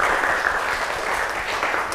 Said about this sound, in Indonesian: Kita beri tepuk tangan dulu untuk 2 pertanyaan teman kita tuh ya.